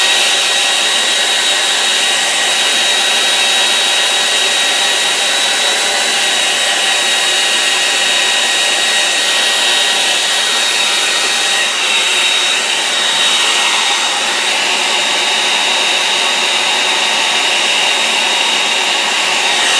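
A hair dryer blows steadily and loudly at close range for the whole stretch, drying a wet-in-wet watercolour painting, its broad whooshing roar and high whine holding almost unchanged without speech.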